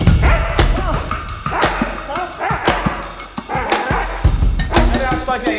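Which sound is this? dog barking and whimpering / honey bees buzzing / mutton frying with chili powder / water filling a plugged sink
dog barking and whimpering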